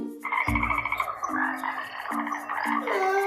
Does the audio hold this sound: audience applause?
no